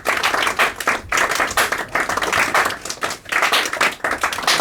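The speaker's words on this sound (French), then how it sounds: "applaudissements polis du public, à peine" Moderate, polite applause from a group of actors, a steady patter of many hands clapping in bursts with short dips, fairly close and alone without talk.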